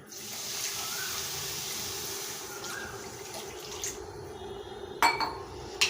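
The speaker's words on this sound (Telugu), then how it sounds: "షుగర్ వేసుకొని 1 గ్లాస్ వాటర్ వేస్తున్నాను" Water pours steadily onto sugar in a metal pan for several seconds, making Mysore pak syrup, then stops, followed by a few clinks of utensils against the pan.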